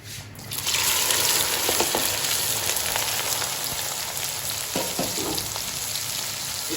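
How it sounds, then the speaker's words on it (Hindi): Okra (bhindi) frying in ghee for bhindi gosht, with a loud, dense sizzle that starts abruptly and runs steadily, broken by a few light stirring clicks. "इसी घी में हमने भिंडियाँ फ्राई करनी है अच्छी तरह से"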